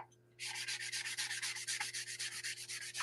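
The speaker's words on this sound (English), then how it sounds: "Start sanding this thing down." After a brief quiet moment, a foam sanding block starts scrubbing back and forth in a quick, even rhythm, close up with a dry, hissing texture.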